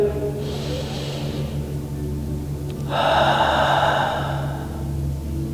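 A deep breath drawn into the belly during a yoga core class, first a softer inhale, then a louder, longer airy exhale close to the microphone, over a low steady hum.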